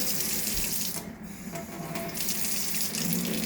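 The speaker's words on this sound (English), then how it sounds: "I use a little warm water." Warm water running steadily from a kitchen tap into a sink while red pea soup is being made, a continuous, close splashing rush with slight shifts in tone as the flow hits the basin.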